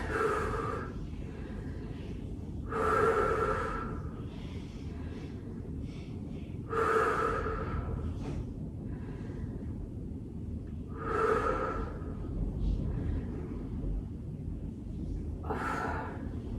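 Slow, deep breathing during a yoga class, with four long drawn-out exhales spaced a few seconds apart, close and airy over a low background hum, no talking.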